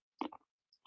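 Quiet, close crunching of almonds and toasted macadamia nuts being chewed: a few short, crisp bites separated by brief pauses.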